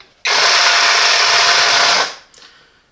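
A Parkside 20V cordless jigsaw runs in Eco mode at about 900 RPM, giving a steady, loud motor whine for nearly two seconds before winding down, with a brief faint blip after.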